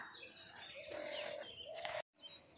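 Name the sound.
kingfisher calling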